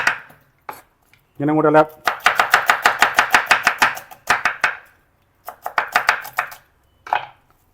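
Rapid knife strokes slice onion thin on a cutting board, bursts of fast even chops close up with short pauses, and a brief spoken phrase between them.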